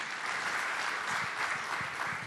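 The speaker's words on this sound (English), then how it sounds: "Let's give them a round of applause, please" A large audience applauds at a boxing press conference announcing the Oleksandr Usyk vs. Anthony Joshua rematch, welcoming the boxers on stage; dense, steady clapping fills the whole stretch without a break.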